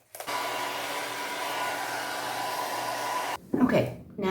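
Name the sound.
hair dryer blow drying paint on jeans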